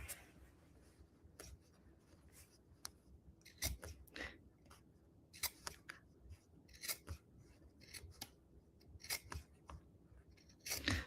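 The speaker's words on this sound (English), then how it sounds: "But just taking it and snip, snip, snip." Scissors snip through rag quilt fabric again and again in short, close, crisp cuts with uneven pauses between them, and no one speaks.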